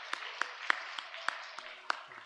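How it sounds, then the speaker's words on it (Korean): A handful of sharp hand claps welcoming new members at a church service, at a brisk, even pace, fairly faint against a quiet room. "우리 박수로 환영하도록 하겠습니다"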